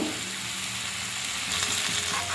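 Fried potatoes dropped into oily, cooked-down masala for a Bengali chapra prawn curry, sizzling steadily in a pan with stirring scrapes; close and continuous, no talk.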